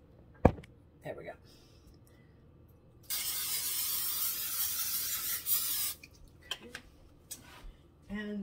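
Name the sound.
cooking spray sprayed onto a pan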